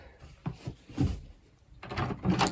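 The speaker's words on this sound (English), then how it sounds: "Let me open up this door here" Wooden knocks and scraping clunks of an old cabin door being worked open, a few separate thuds followed by a rattling slide, close by and fairly quiet.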